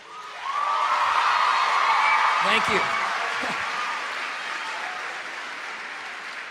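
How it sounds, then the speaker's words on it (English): An audience bursts into sustained applause with whoops and cheers, swelling quickly then slowly fading, while someone briefly speaks over it. "that means a lot to me that you guys applaud for that"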